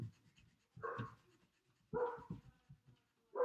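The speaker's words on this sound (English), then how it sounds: "You can probably hear the dogs barking as usual" Several dogs bark in short, loud bursts at roughly one-second intervals, with panting and restless movement between them, close by and without any talk.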